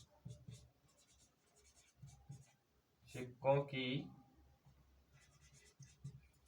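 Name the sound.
writing on a board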